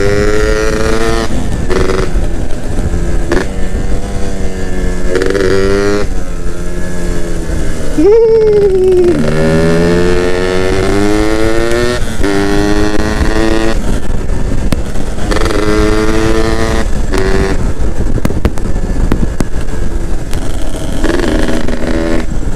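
A Yamaha F1ZR two-stroke motorcycle engine revs hard while riding, its buzzing pitch climbing and dropping through repeated gear changes, loud and close throughout.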